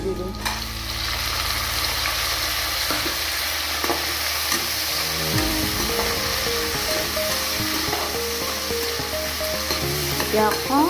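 Tomatoes sizzle steadily in a hot pan while a spoon stirs and scrapes them in repeated strokes, with the frying hiss continuing throughout at close range.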